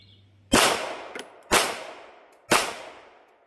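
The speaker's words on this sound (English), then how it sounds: "The first shot was really good." Three loud gunshots spaced evenly about a second apart, each a sharp crack with a decaying echo, fired from a table by a shooter comparing sober and buzzed accuracy.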